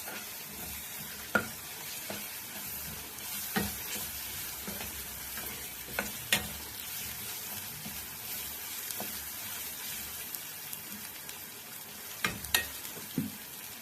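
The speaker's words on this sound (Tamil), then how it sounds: "போட்டு நல்லா மிக்ஸ் பண்ணிடலாம்." Spoon scraping and knocking in a pan as ground spices, garam masala and turmeric are mixed into a mushroom gravy, scattered clacks over a constant soft sizzle.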